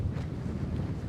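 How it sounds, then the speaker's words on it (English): Wind buffets the microphone at a lookout over the Kalgoorlie Super Pit mine, a steady low rumbling roar filling the short clip. "Windy up here."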